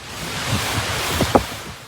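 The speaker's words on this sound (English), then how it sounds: "The waves keep crashing through the hotels." Strong Hurricane Melissa winds roar steadily as heavy waves surge and crash along the Jamaican shore, with a louder wash breaking near the end, with no voices.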